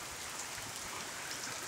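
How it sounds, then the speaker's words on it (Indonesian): Evening rain in a village in Tutong, falling steadily on surfaces with a constant soft hiss and occasional patter, no voices present. "hujannya turun sebenarnya"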